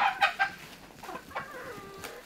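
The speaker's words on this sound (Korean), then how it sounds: "요게 한 쌍인데 천개 닭이라는 거예요" Rare Cheongae chickens, a Korean breed prized for laying blue-tinged eggs, cluck in a pair: a few quick clucks at the start, then drawn-out calls and a rising cluck near the end, moderately close and with no talking.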